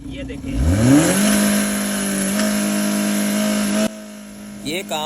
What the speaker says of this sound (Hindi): मैं अभी गाड़ी स्टार्ट करूंगा और गाड़ी मिसिंग करेगी।